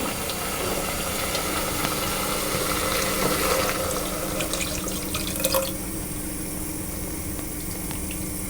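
Milk poured into a pan with sugar while making rice pudding for tarts, a steady liquid pouring and running sound that continues unbroken throughout at moderate level, with no talking.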